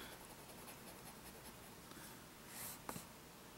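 Fine to extra fine nib fountain pen writing on paper, a soft continuous scratchy hiss with a few light strokes and taps near the end, close and quiet with no talking.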